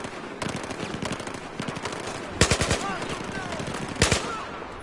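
Gunfire in Battlefield 4 in Shanghai: a dense, loud stream of automatic weapon fire with heavier bursts standing out, rattling on continuously over a busy battle background.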